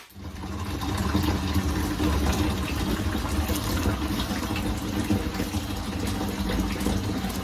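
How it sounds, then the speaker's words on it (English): Water pours and soaks into the bedding of a worm bin, a steady continuous gush of liquid running close by without a break and with no talk over it. "I'm gonna start wetting this down and letting the water just like really soak it in."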